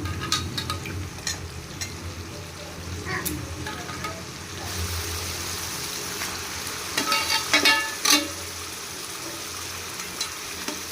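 Chicken frying in a home kitchen pan, a steady close sizzle with stirring scrapes and clatter, a burst of louder sputtering and clinks toward the end, no talk.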